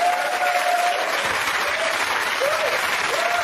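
Steady, dense applause from a TV talk show studio audience, loud and continuous throughout, with a faint crowd murmur and a few brief whistle-like tones over it.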